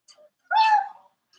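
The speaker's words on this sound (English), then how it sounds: "here's our other cat." A house cat gives a single short meow, close and fairly clear, with faint soft sounds before and after it in an otherwise quiet indoor room.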